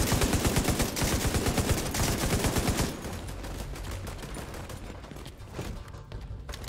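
Dense enemy gunfire in The Division 2, a continuous rattle of rifle and machine-gun bursts that is loud and steady for about three seconds, then continues more distantly and thinly under the game's ambience.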